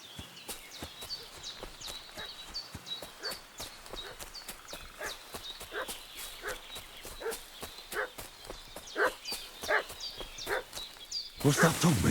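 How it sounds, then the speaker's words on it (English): Repeated dog barks in the Kingdom Come Deliverance II video game, sharp and moderately distant, come in an irregular series over an outdoor village ambience with footsteps, then grow louder near the end. "What's that dog making such a fuss about?"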